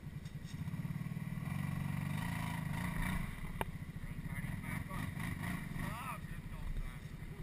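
A boat engine revs hard in reverse as the throttle is opened, a loud, steady low drone rising and falling over several seconds, with people talking over it.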